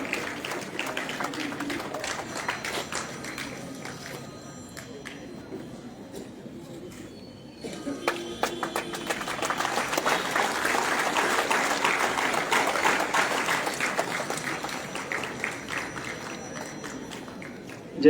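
At an Independence Day ceremony in Palampur, a crowd bursts into sustained applause honouring a martyr's father, the clapping swelling after a quieter stretch and continuing strongly, mixed with a voice over a loudspeaker.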